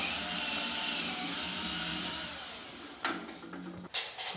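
A power tool driving screws into a door frame during interior fitting: a steady high whine that fades over a few seconds, then short uneven bursts as the tool starts and stops.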